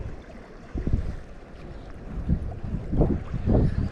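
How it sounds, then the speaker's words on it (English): Gusty wind buffets the microphone beside a river during spring trout fishing, with low rumbling bursts rising and falling over a steady outdoor background. "Bloody wind."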